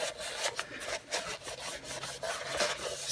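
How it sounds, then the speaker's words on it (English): A small metal toolbox is scrubbed with alcohol to lift leftover residue, giving quiet, rhythmic rubbing and wiping strokes repeated in quick succession, close up and alone. "So now I'm going to use some alcohol to see if I can clean off any residue that's left."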